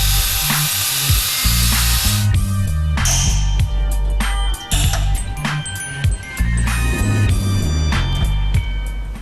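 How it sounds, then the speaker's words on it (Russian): Angle grinder cutting open a seized roller from a KAMAZ 5490 truck engine, a loud, close, dense grinding whine with short breaks where the disc lifts and bites again, plus scattered metallic clinks, with no talking. "Сейчас мы его вскроем с помощью болгарки и посмотрим, что же он внутри"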